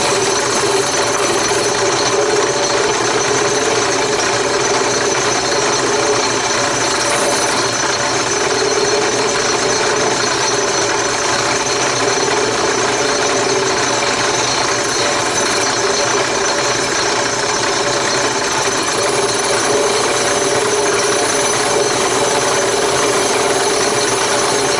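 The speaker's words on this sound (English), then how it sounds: "We're going to lock the table in place and start sanding that edge." A router table sands the edge of a wooden toy, producing a steady, loud mechanical buzz and grind that holds for about twenty-five seconds with no talk.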